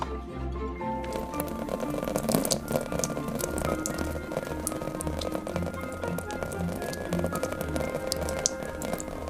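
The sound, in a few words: rain sound effect made with a plant watering can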